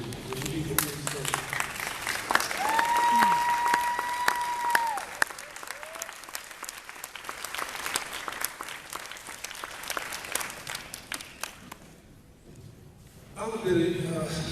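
Applause from a forum audience rolls on beneath a speaker's amplified voice, steady clapping with a brief dip and a short renewed burst near the end.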